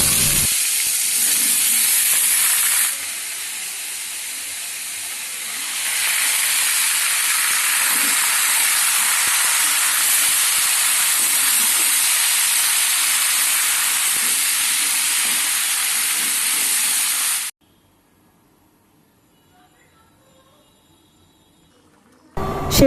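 Bottle gourd cooking in a pan gives a loud, steady hiss and sizzle that carries on for many seconds, softens briefly, then stops suddenly and leaves near silence.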